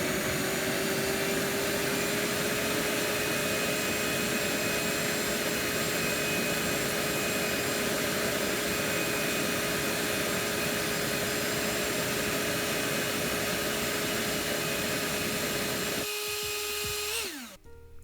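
Electric ducted fan rig with a homemade afterburner burning propane roars as a loud, steady, high-pitched whine with a constant tone for about sixteen seconds before abruptly spooling down at the end.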